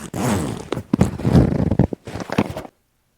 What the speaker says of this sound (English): how much easier is it to keep your coat closed and just unzip this way